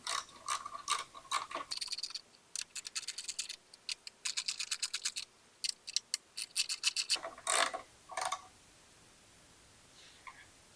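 Ratchet wrench tightening the bolts of a motorcycle backrest or luggage rack, with rapid close clicking bursts in repeated strokes, separated by short pauses and fading out near the end.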